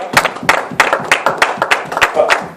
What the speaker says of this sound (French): Est-ce qu'on peut acclamer la pensée de Dieu?